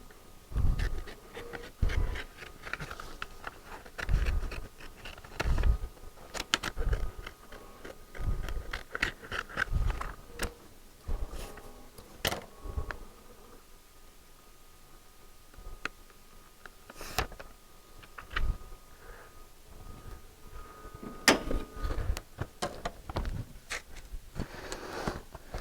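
A Graphtec vinyl cutter slices heat transfer vinyl with a faint, buzzing whir, broken by sharp ticks and clicks as the carriage moves. The machine sounds close but quiet, with a calmer stretch midway.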